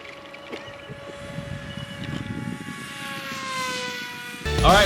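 A Hawk Sky electric RC airplane passes overhead as a chase plane, its motor a steady drone with a rising and falling whine, moderately distant, before a loud close rustle at the end.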